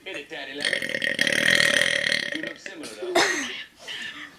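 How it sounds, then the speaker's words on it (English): A girl lets out a long, loud, gravelly burp lasting over two seconds, then gives a shorter burst, close to the microphone, with voices around it. "I'm just going to burp."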